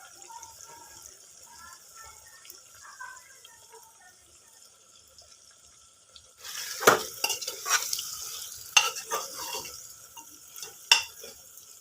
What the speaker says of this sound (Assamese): এতিয়া ঢাকনিখন লগাই অলপ দেৰি ফ্ৰাই হ'বলৈ দিম।